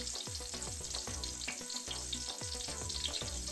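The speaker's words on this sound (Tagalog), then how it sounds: "Fry until golden brown." Eggplant omelet (tortang talong) frying in hot oil in a pan, giving a close, steady sizzle with a crackly texture, small pops and a few soft stirring or scraping clicks throughout.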